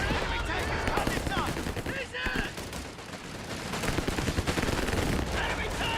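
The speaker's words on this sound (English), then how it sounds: "We've got the mortar. Airburst rounds coming in here." Mortar airburst rounds and rifle fire in a World War II strategy video game, with dense overlapping gunfire and blasts rumbling continuously beneath a voice.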